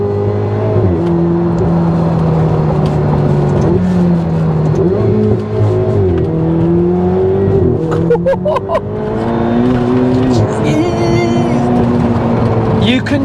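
A Ferrari 488 supercar drives and accelerates hard, its engine note climbing and shifting through rising revs, loud and close from inside the car, with brief voices near the end.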